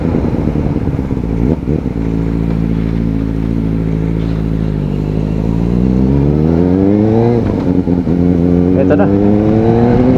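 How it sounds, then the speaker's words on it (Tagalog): A Kawasaki ZX-4RR motorcycle engine rumbles steadily close by, rising in pitch as it revs and pulls off, with a brief voice speaking over it at the start. "Ito na yung ating motor. Ayos lang tayo ng gamit, tapos ready to go na tayo. Ito, palabas na tayo."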